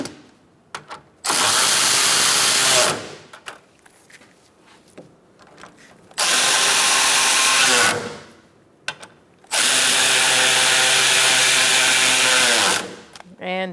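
Power tool driving in the bolts on a 2014-2019 Kia Soul 1.6L engine cooling fan assembly, with three loud, close bursts of whirring rotation separated by pauses and small handling clicks.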